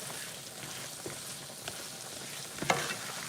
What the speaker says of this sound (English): I'm gonna stir this around so that all of the zucchini kind of gets coated in that oil